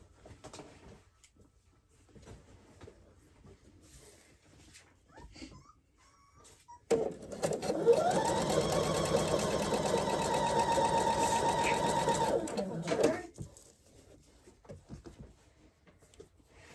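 A sewing machine stitches quilt block pieces in one steady, continuous whirring run of about six seconds, close and fairly loud, with quiet room sounds before and after.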